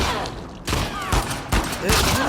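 Gunfire rings out in The Last of Us Part 2 on PS4. Dense, loud bursts of shots come in quick clusters, and voices are mixed in underneath.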